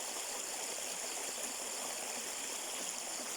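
A small stream, a sapa beside a corn field, flows in a steady wash of rushing, bubbling water, close and constant with no voices.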